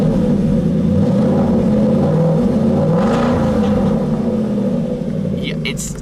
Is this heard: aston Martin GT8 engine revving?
yes